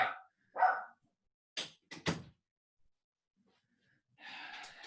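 A few short, faint dog barks in a quiet room, spaced apart with pauses, followed by a soft breathy sound.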